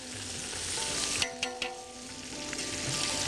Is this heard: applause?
no